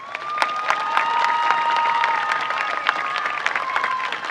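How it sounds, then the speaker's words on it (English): A high school graduation crowd applauds and cheers, sustained clapping with whoops and shouts rising above it, loud and full throughout. "Please give our salutatorian and our valedictorians a final round of applause."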